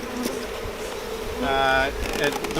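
Honey bees buzz around a hive feeder filled with sugar syrup, a loud, close, steady drone with a brief rising whine from a single bee passing near.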